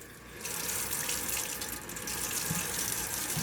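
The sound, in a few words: water running from a kitchen faucet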